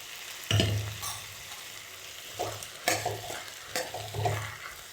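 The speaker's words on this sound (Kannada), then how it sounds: "ಸೊ ಈಗ ಇದಕ್ಕೆ ಮಸಾಲೆ ಹಾಕ್ಕೊಳ್ತಾ ಇದ್ದೀನಿ" Masala being stirred into food cooking in a pan, with a few distinct scraping stirs spaced over several seconds above a soft, steady sizzle, close and fairly quiet.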